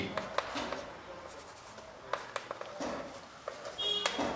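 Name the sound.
writing on a board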